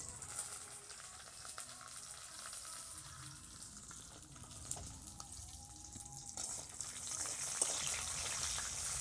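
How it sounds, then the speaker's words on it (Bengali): Cashews and raisins frying in plain oil, without ghee, in a hot kadai wok: a faint, continuous hissing sizzle that holds steady and grows slightly brighter toward the end, with no voices. "কাজু কিশমিশগুলোকে আমি ভেজে নিচ্ছি আগে এই তেলের মধ্যে দিয়ে"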